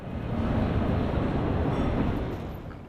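An ICE intercity express train rumbles steadily past nearby at a station, a broad rolling roar that swells and then eases slightly toward the end.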